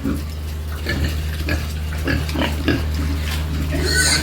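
Pigs eating feed in a pen make loud, close grunts, smacking and slurping chews, with a steady low hum under the scattered snorts.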